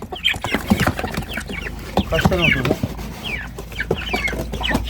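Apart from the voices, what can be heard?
chickens clucking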